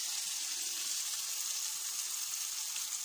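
Beaten eggs and milk frying for an omelette in a covered pan over lowered gas, giving a steady, soft hiss and sizzle throughout with no other sounds.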